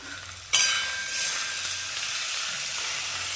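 Onion and tomato fry in a pan, the sizzle bursting in abruptly after a quiet start and then settling into a continuous, even hiss close by with no talking.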